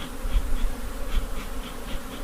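Honey bees buzz at an opened long hive during an inspection, a dense, continuous close-up drone with wavering pitch as many insects fly around, no talking.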